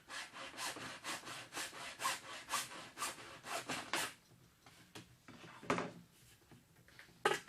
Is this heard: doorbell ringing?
no